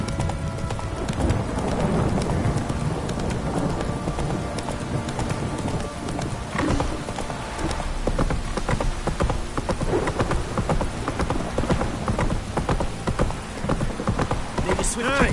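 Roach the horse's hooves clip-clopping in The Witcher 3, a steady trotting beat under heavy rainfall and distant rumbles, with a voice speaking briefly.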